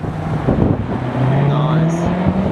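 A Porsche GT2 RS sports car accelerates past, its engine note rising as a steady drone and then pulling away, heard from the roadside at moderate distance amid outdoor background noise.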